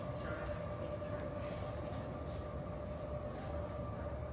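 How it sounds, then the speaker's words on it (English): A full-size train rolls past on a trip from Boston to Savannah, its steady rumble and rattling wheel noise filling the scene evenly throughout, loud and continuous with faint higher squeals above. "Whoa, full-on train."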